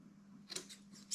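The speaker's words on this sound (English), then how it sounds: "This is where you really do need some good scissors as well." A few quick snips of fabric scissors cutting cloth for van window blackout curtains, close and crisp, two or three short bursts over a quiet background.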